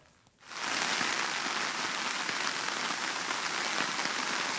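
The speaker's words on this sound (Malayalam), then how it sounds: "കൊച്ചിയിൽ നല്ല മഴയാണ്." After a brief quiet moment, heavy rain starts in Kochi and pours steadily, a dense, constant hiss of water hitting surfaces close by.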